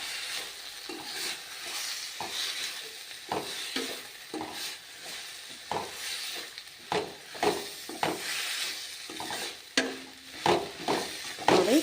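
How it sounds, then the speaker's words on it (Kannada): Fenugreek leaves being stirred into dal in a pan: a steady sizzle under repeated scraping spoon strokes that land at an uneven but regular pace, close and clear. "ಮೆಂತ್ಯ ಸೊಪ್ಪು ಇದು ಇದ್ರೊಳಗೆ ಹಾಕಿ ಮಿಕ್ಸ್ ಮಾಡ್ಕೊಂಡು"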